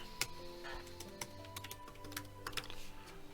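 Keys clatter on a computer keyboard in a quick, uneven run of close, faint clicks, with no talk over them.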